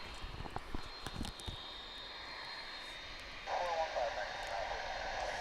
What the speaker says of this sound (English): That is our third MD-11 of the morning.